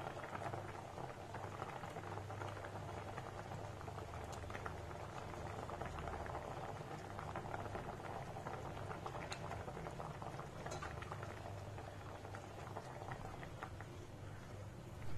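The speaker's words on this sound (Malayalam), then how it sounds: "ഇപ്പൊ ഞാൻ ഇത് നല്ലതുപോലെ തിളച്ചതുകൊണ്ട് ഇതിനകത്തേക്ക് സ്രാവ് ഇടുകയാണ്." Water at a steady rolling boil in a pot holding shark pieces and kudampuli for a Malabar coconut fish curry, a continuous close bubbling and simmering with no talk.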